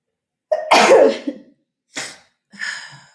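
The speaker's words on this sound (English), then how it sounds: "I'm going to sneeze again" A loud, close sneeze, followed by two shorter breathy bursts like sniffles, in an otherwise silent room.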